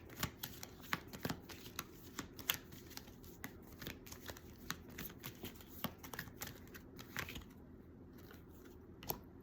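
Tarot cards shuffled by hand, a quiet, close run of quick riffling flicks and soft slaps in an irregular rhythm, continuing for several seconds with no talking.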